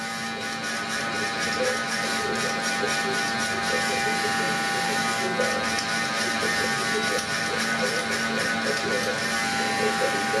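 Hair clippers fitted with a number 2 guard buzz steadily while fading thick straight hair, a close continuous electric hum with faint rhythmic textures as the clippers move.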